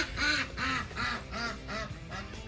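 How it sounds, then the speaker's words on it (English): A duck quacks loudly and close by, six or seven harsh, evenly spaced calls in a steady rhythm with no voices over them. "duck's really loud"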